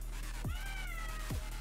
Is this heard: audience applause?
no